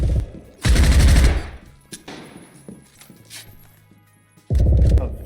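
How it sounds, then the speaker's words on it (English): Gunfire in a competitive first-person shooter match, two loud bursts of shots at the start and end with scattered quieter game noises and faint footsteps between, no talk. "MattG sees the gun. He's gonna get the shot on Neil"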